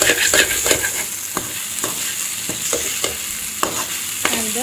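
Okra (ladies finger) fries in a pan over a raised flame with a steady, dense sizzle, while a spatula stirs it and scrapes the pan in regular clicks.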